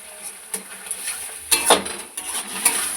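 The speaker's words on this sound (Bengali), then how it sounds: "ভালো করে নেড়ে নেবো, নেড়ে কষতে নেবো" Spices such as ginger, cumin, turmeric and chilli powder are stirred in a cooking pan, giving soft scraping and clinking strokes at an irregular pace, with a louder burst of scraping near the middle.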